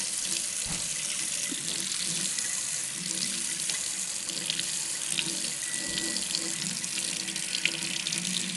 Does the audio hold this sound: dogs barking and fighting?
no